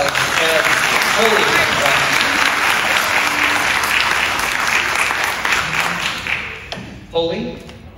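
Dense audience applause fills a school fine arts signing day, many hands clapping at once in a steady roar for several seconds before thinning out near the end, with a voice briefly speaking underneath.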